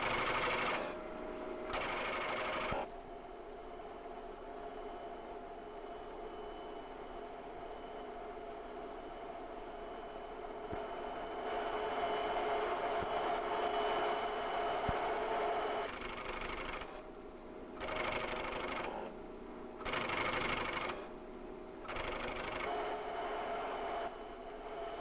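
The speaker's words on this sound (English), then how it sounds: "Right now, the holes on the tape are telling the machine to spell out CBS TV." A mid-1950s tape-controlled industrial machine runs its programmed sequence, punched holes on tape driving it to spell out letters: a steady mechanical whir and clatter that drops out and restarts in short bursts, close and continuous, with no talking.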